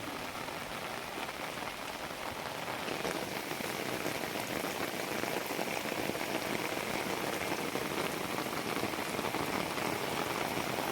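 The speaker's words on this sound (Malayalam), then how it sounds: "ശക്തമായുള്ള മൂടി പുതച്ച് വരുന്ന മഴ കേട്ടോ" Heavy monsoon rain pours down steadily and loudly, a dense, continuous hiss of drops drumming on surfaces that holds even throughout without any break or voices.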